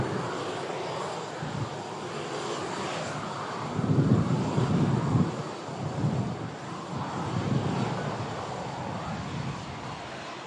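Jet departing Manchester Airport, a broad roaring engine rumble that swells loudest midway and stays steady throughout, with some wind buffeting and no talk.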